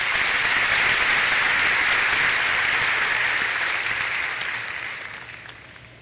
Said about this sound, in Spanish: Denle un buen aplauso al Señor